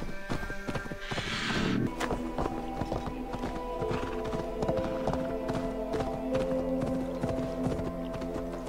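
A horse gallops in Assassin's Creed Valhalla, with steady clip-clop hoofbeats in a quick rhythm across the whole stretch and a brief whinny near the start, close and loud.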